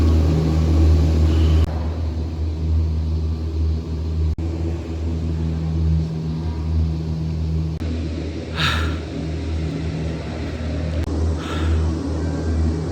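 A cable car descending Wudang Mountain, heard from inside as a constant low mechanical hum and drone with a few faint clicks and brief rustles, steady and close, with no talk.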